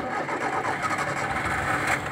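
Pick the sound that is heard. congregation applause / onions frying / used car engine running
used car engine running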